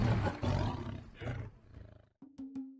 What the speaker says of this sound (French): si vous entendiez un lion rugir de si loin, ce son puissant dit aux autres animaux